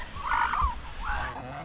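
Young geese, three goslings on a farm, give loud honking calls close by, two drawn-out calls in quick succession with faint background noise.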